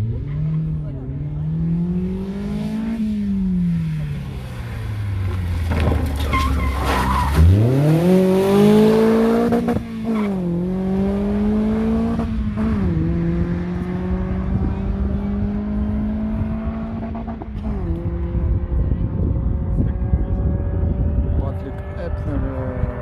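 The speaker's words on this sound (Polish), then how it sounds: "Tymczasem Patryk Ebner w BMW" BMW rally car racing flat out on a special stage at Rally Masters Świdnica, engine pitch climbing and falling through gear changes and braking, with tyre squeal and skidding, loud and close, with commentary running over it.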